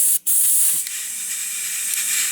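Compressed air from a compressor hisses steadily through an air line into a four-stroke engine converted to run on air, a loud, close hiss broken by one short gap.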